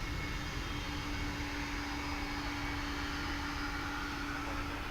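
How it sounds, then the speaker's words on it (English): Steady, loud roar of MD jet engines revving at an airport, with a constant whine, holding at one level throughout without pauses. "I hear those big engines revving on the MD"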